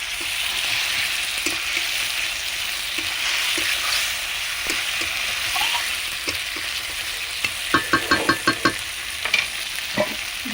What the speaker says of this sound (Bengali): মশলার সঙ্গে মাংসটা ভালোভাবে কষিয়ে নেব।